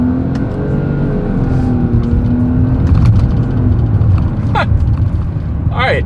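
A 2025 Nissan Rogue with a CVT accelerates in sport mode, a steady interior engine drone with a rising whine building under the drive and a few brief chirps near the end.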